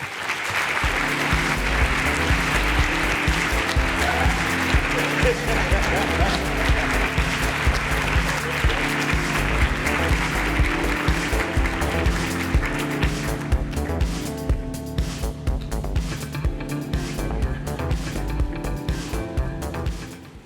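An audience at an anniversary presentation of a university diversity forum gives steady, loud applause to welcome a speaker to the stage, with clapping sustained for twenty seconds while music plays beneath it.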